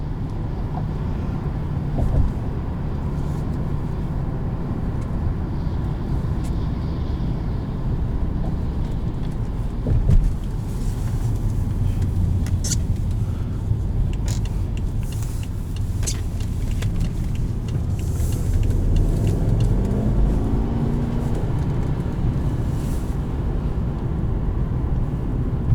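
A 2011 BMW 550xi V8 engine drones steadily from inside the cabin while driving, with a low continuous rumble and road noise that swells briefly as it accelerates, no talk over it.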